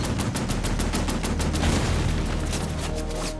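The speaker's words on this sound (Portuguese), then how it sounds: "eles se deparam com um quarto tanque, que abre fogo." Tank firing during a WWII battle near Falaise, rendered as rapid gunfire: a dense, continuous burst of loud shots with booming low rumble underneath, no speech.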